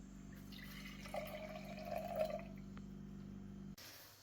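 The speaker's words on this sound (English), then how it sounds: "what I've poured out with my ginger now, I'm just going to pour back into my bottle" Liquid from a ginger bug ferment trickles and pours steadily back into a bottle for several seconds over a low background hum, then stops abruptly.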